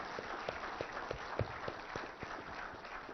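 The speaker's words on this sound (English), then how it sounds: "So I think my entire team deserves a huge round of applause." Audience applause at an indoor government department annual report launch, a steady wash of clapping from many hands with a few sharper individual claps standing out.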